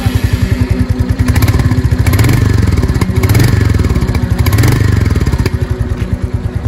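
A new Royal Enfield Hunter 350 motorcycle with stock exhaust fires up and settles into a loud, lumpy idle with rhythmic thumping pulses and occasional blips of throttle, close by.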